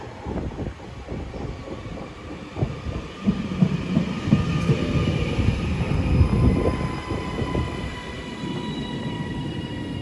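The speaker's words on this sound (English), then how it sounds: "the last train of my day is a 3331 going to Manchester" A Class 331 passenger train rumbles and hums steadily nearby at a station, engine noise swelling in the middle and easing off, with a faint high whine above the low drone.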